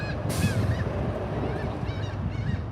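Several geese honk outdoors in a few short bursts over a steady low rumble of background noise, with no voices.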